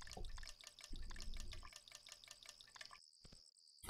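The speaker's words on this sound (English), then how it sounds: "Listen to that water sound." Water in the voxel video game Cube World drips and splashes in a steady rapid patter, fairly faint, with a brief low rumble early on and a near-silent pause toward the end.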